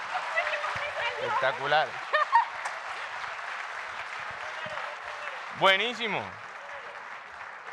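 Conference audience applauding, a steady broadband wash of clapping across the whole stretch, with people speaking over it and a short exclamation near the end.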